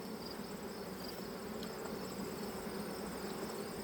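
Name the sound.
honey bees buzzing around an open hive colony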